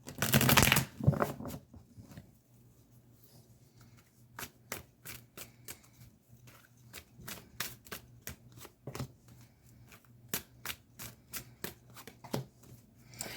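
Tarot cards are shuffled close by, a brief riffle at the start and then a long series of soft, evenly spaced card slaps with a faint steady hum underneath.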